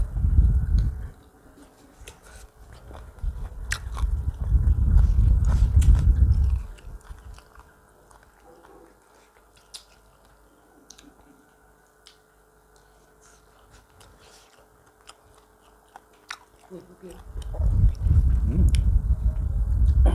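Close, wet chewing of chicken curry with mushroom, pumpkin and toasted rice alongside an omelette, in two loud bursts of smacking bites separated by a long quiet stretch.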